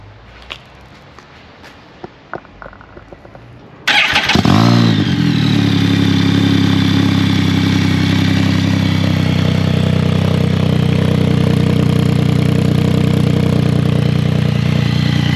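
A Can-Am Spyder F3 fitted with an aftermarket exhaust starts up after a few quiet clicks and then idles loudly and steadily for the rest of the clip, with a throaty, clattering engine note.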